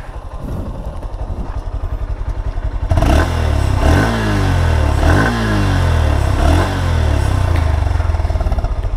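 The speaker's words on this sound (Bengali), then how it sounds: "মাফলার সাউন্ডটা বেশ ভালো আছে, হাই আরপিএম একটা মোটা সাউন্ড দেয়।" Honda X-Blade motorcycle engine and exhaust revving hard to high RPM, with a sharp jump in loudness about three seconds in and then repeated throaty surges of the revs, close by with no talking.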